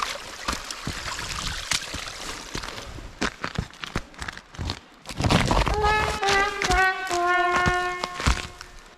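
Mountain stream cascading down a waterfall beside a slippery hiking trail on Mt Hunger in Waterbury, Vermont, a steady rushing and trickling under scattered footsteps and clatter, with a few tonal whistle-like notes near the end.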